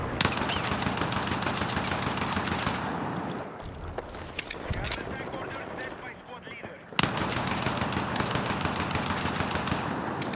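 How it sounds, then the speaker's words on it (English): Sustained automatic gunfire from Battlefield 6, loud and continuous, breaking for a few seconds mid-burst before resuming as a dense, rapid stream of shots with no talking. "I'm just gonna shoot."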